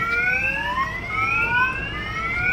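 Loud, continuous electronic warning tones of two vehicles' reversing horns, several overlapping pitched beeps sliding steadily, blaring close by without pause.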